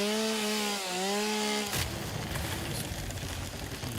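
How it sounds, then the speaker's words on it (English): Chainsaw in the video game Satisfactory, first a revving engine tone that rises and dips, then a sudden switch to a harsh, sustained cutting rasp. "This is a little quick chainsaw in here."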